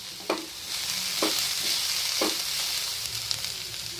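Cabbage and bell pepper fry in a pan over browned onions, giving a steady broadband sizzle with a few sharp stirring scrapes spaced about a second apart, close and clear with no talk.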